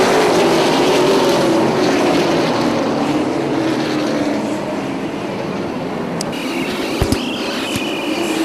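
Super late model race cars roar past on a racetrack as the field takes the green flag, a loud continuous engine drone with shifting pitch and a few sharp knocks near the end.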